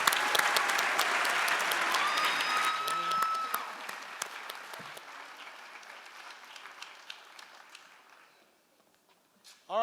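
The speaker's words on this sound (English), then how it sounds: "how about one more round of applause for our project finalist?" Sustained audience applause for project finalists at a charity challenge finals event, loud and dense at first, then fading away with a few scattered claps, a whistle and a voice near the start.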